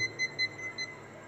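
Short, steady electronic beeps from a non-contact voltage tester held near a live wire, repeating at a quick even pace over a quiet background.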